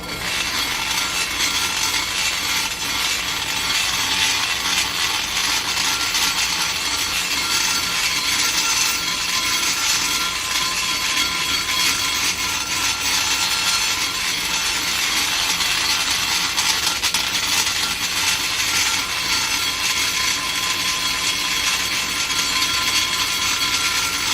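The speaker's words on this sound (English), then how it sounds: "This is my new 1/2-inch oval single cut. It makes short work out of an incredibly hard seat that Dart put in these 165s." A 1/2-inch oval single-cut carbide burr grinds a very hard valve seat in a Dart 165 cylinder head, a loud, continuous high-pitched whine and rasp close up with no pauses or talk throughout.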